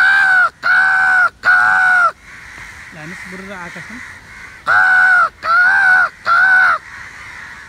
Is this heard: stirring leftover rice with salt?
no